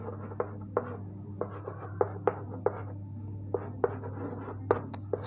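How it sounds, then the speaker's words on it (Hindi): Chalk or marker taps and scratches across a board in a physics lecture setting, sharp irregular strokes over a steady low hum, with no speech. "चलें इधर लिख लेते हैं"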